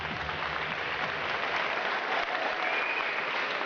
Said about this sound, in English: Again, one big round of applause for both fighters